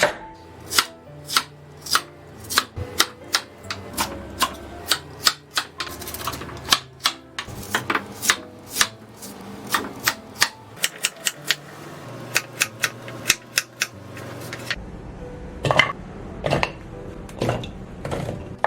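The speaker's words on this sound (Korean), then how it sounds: "무는 2cm 간격으로 썰어주세요" A knife cuts radish into 2 cm cubes on a cutting board for kkakdugi in crisp, irregular strokes, close and distinct, with short pauses between bursts of cuts.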